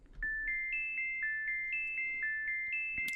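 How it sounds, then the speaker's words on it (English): Dry wavetable synth plays a quick, evenly paced run of bright, bell-like tones bouncing between a few pitches, thin and quiet with no room tail, ending on a sharp click. "we have the wavetable synth"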